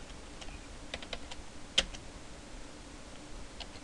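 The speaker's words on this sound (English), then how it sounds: "Type everything exactly as you see it typed right over here." Quiet, irregular keystrokes on a computer keyboard as C++ code is typed, soft scattered clicks with one sharper tap, no talking.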